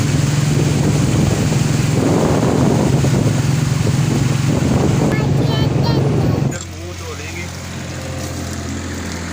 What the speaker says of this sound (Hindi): माशाल्लाह बहुत ज़बरदस्त ठंडी हवा चल रही है।